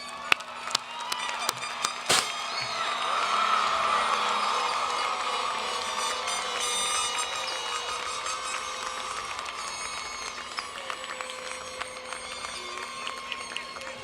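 A large graduation audience at a 2017 university commencement ceremony applauds steadily, a broad wash of clapping that swells early then sustains evenly, heard from a distance in a big hall.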